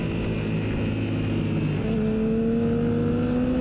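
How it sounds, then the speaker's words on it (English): A Yamaha R6 inline-four motorcycle in a lightweight supersport race at PittRace, its engine droning loud and steady before the pitch shifts up partway through as it accelerates. "the bike in front of me sounds very much like an inline 4"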